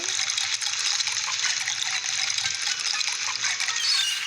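Water gushes steadily in a continuous hissing stream, like a tap filling a container, in the video game Johnny's Island, with no voices over it.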